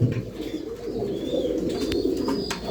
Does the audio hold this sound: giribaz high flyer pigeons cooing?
yes